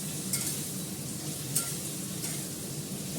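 A spice mix with Kashmiri chilli powder fries in a pan, giving a low, steady sizzle with a few light clinks of a spoon against the pot, close and without talk.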